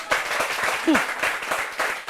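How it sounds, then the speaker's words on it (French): A comedy-show audience gives a brief burst of scattered clapping, fairly soft and steady, with a voice briefly heard over it. "Applaudissez pour vous-même."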